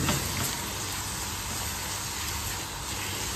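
Chicken with two green chillies frying in a kadhai, a steady close, even sizzle and hiss with no talking.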